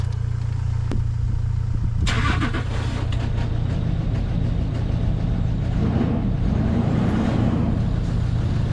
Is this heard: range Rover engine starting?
yes